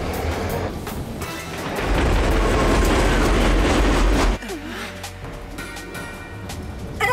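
A runaway metro train in a French animated superhero cartoon, a loud rumbling rush of wheels and rails with clattering and screeching metal, dropping abruptly to a quieter hum with whining tones.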